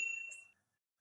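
A single bright bell ding rings out and fades quickly, clean and close, followed by silence.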